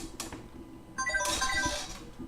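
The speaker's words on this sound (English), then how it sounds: "There goes my phone." A mobile phone ringtone cuts in about a second along, a bright, melodic ringing that holds steadily over a low background hum.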